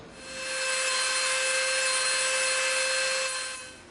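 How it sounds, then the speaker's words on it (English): A Dremel rotary tool grinds and shapes EVA foam for a Fallout laser pistol prop, giving one steady, close, high-pitched whine that holds for about three seconds before tapering off. "we're going to try to shape this out a little bit. All right, so we're going to use our Dremel"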